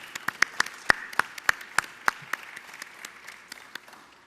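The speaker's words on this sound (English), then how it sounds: "Let's give them a round of applause." An audience claps at a New York governor's briefing, a round of sharp, separate claps in fairly quick succession that thins out toward the end, with no speech over it.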